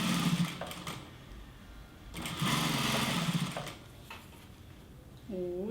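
A sewing machine stitches a multipurpose wallet in short, close bursts of rapid mechanical whirring separated by brief pauses.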